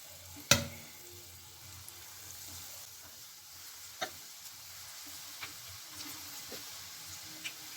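Vegetable pakoras deep frying in hot oil give a soft, steady sizzle throughout, with a sharp clack near the start and a few faint scattered ticks and taps later.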